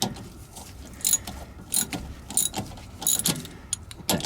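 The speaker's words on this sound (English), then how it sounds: "hold the ratchet on top" A ratchet wrench clicks in short bursts while a bushing is fitted on a Honda, with several distinct ratcheting runs spaced about a second apart and loud, close metallic ticks between quieter moments.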